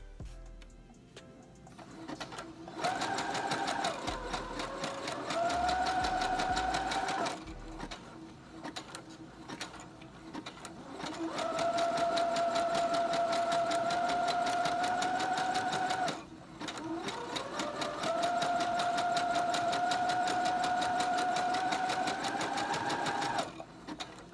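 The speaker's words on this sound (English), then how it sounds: "I'm gonna go around and sew it together" A sewing machine stitching a dress made from tank tops, running in three long steady whirring bursts with brief pauses between, close and clear with no talking.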